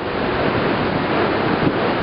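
Ocean waves break heavily during a November nor'easter, a dense continuous roar of surf mixed with wind buffeting the microphone, loud and close throughout.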